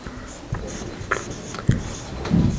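A marker squeaks and scratches across a board in short strokes during an English grammar lesson, close and fairly quiet, with a few brief taps and squeaks and no talking.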